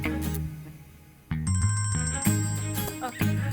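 A phone ringtone plays a short, bright electronic melody of repeated tones, close and clear, over a low background hum, in the middle of a drama scene.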